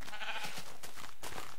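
Sheep in the Minecraft video game bleat in a short burst, a nasal wavering cry repeated a couple of times over quiet game ambience, fairly close and moderately loud.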